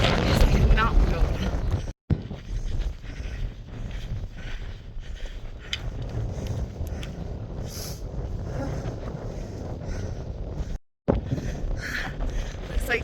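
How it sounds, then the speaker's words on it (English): Strong gusts on a high Colorado mountain ridge batter the microphone with a loud, continuous roar and rumble, broken by a couple of brief dropouts, while hikers talk underneath. "This wind is insane."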